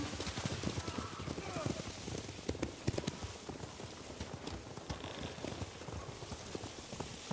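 Horses in the video game Ghost of Tsushima: a busy, dense clatter of hooves with occasional whinnies under a pattering, rain-like backdrop, while voices talk over it.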